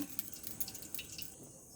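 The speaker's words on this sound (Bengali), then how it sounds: "এই তেল দিলাম, এই সাদা তেল দিয়ে ভাজবো।" White cooking oil is poured into a pan for frying, giving a faint, brief trickle with soft dripping and light splashy ticks, close and quiet, with no talking.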